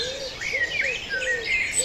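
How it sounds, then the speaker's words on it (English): Several birds chirp and call in a morning chorus in a wooded area of Ireland, with repeated clear whistled notes and higher tweets overlapping at moderate distance and no talk. "It's a great opportunity to sit down at home and listen to the amazing bird sounds"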